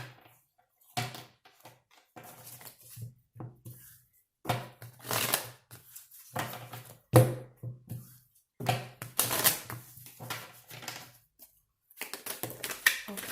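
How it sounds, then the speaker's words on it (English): Tarot cards being shuffled close by, with repeated riffling and tapping in irregular bursts separated by short silences. "let's get 4 shuffles from the good tarot for you to see what's coming up for you"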